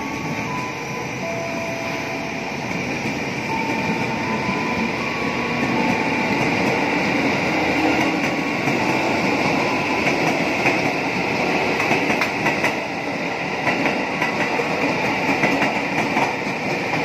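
A KRL Commuter Line train arriving at a station in the Jakarta area rumbles steadily and loudly nearby, with a continuous mechanical roar and faint rhythmic clatter throughout, no voices.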